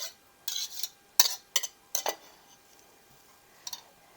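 Greek quinoa salad is tossed with dressing in a bowl. A spoon clinks against the bowl in a few sharp, close taps and scrapes, spaced irregularly, with quiet pauses in between.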